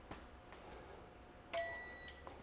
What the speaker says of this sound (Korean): 이 카운트가 끝나면 알람이 소리가 나옵니다